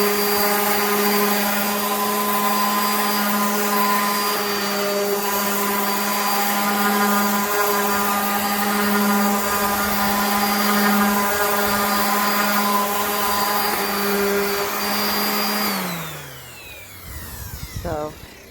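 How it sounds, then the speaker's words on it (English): An orbital sander runs on painted furniture, giving a loud, steady, close whine with a constant hum that holds for about fifteen seconds before spinning down and stopping near the end. "So I'm gonna take my orbital sander. This is gonna be loud."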